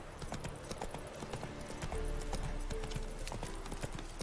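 A horse gallops in The Witcher 3: Wild Hunt, its hooves beating a rapid, steady clip-clop over continuous game ambience.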